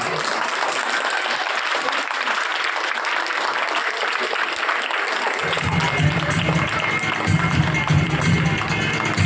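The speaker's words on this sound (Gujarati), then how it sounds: "ખાલી તાળીઓ જ પાડજો. પાડો તાળીઓ" Primary schoolchildren lined up outdoors at a village school clap together, a loud continuous patter that grows fuller and heavier partway through, with some voices mixed in.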